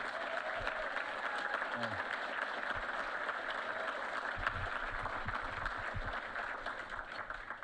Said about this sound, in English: giving Johnny a round of applause for 50 years since he's gotten a Heisman